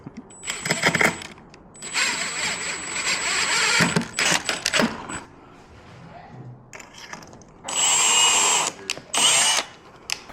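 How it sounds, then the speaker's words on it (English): A power drill whirs in several bursts of a second or two each, close up, pre-drilling a door casing for a retractable screen door, with small clicks and handling noises between runs. "Pre-drill through the door casing and then install the screw into the countersunk holes."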